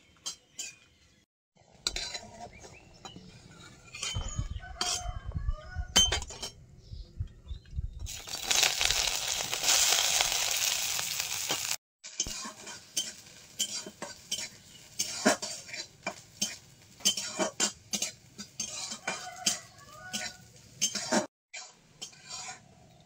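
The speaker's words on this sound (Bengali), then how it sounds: "আমি মৌসিম ভর্তা করার জন্য শুকনো লঙ্কা আর রসুনটা ভেজে নিচ্ছি" Dry red chillies and garlic are fried in a pan for a mashed bharta, with metal utensils clinking and scraping against the pan in a steady, uneven rhythm, close and fairly quiet, and a brief burst of louder sizzle in the middle.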